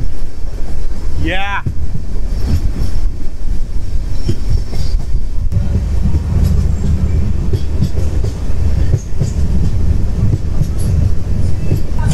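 Vistadome tourist special train coach rolling on rails through the Dooars between New Mal Junction and Madarihat, a steady loud rumble of wheels with wind buffeting, faint clatter and a brief squeal early on.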